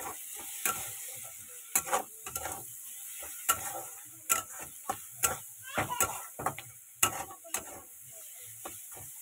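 Food frying in a pan with Maggi masala added, scraped and stirred in a series of sharp, intermittent clacks over a steady, quiet sizzle, close by with no talking.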